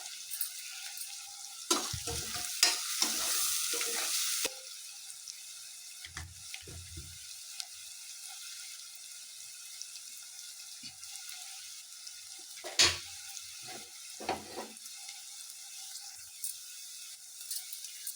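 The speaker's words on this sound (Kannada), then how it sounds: "ನೋಡಿ ಈರುಳ್ಳಿ ಇಷ್ಟು ಫ್ರೈ ಆಗಬೇಕು" Onions frying in a pan for home-style chicken biryani: a faint, steady sizzle for the first few seconds, then quieter stretches with scattered soft clicks and scrapes of stirring. No one speaks.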